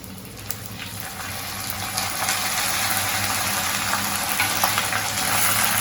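Washed drumstick leaves dropped into a hot tempering with turmeric hiss and crackle in the pan, a dense close sizzle with occasional stirring scrapes.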